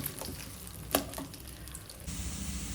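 Potatoes frying in a pan, a soft, steady sizzle with a sharper clink partway through and a brief surge of hissing near the end, faint and with no talk.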